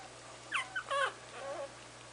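Puppies give a few faint, high, thin whimpers and yips close by, short wavering cries over a quiet hum with no talking.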